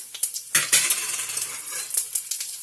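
Red chilies hit hot oil for a South Indian tempering with mustard seeds, cumin and urad dal, giving a soft sizzle dotted with sharp metallic clinks and taps from a spoon against the pan, close and fairly quiet.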